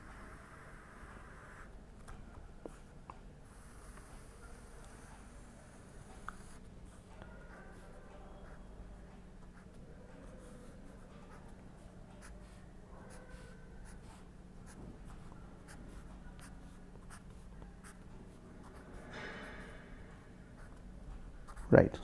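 A diagram drawn by hand during a lecture on modulation, with faint scratchy strokes of a pen or chalk under a quiet room hum and occasional speech.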